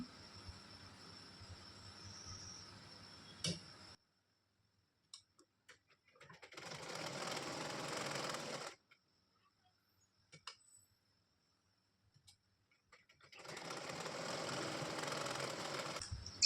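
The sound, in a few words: sewing machine stitching fabric for a hair scrunchie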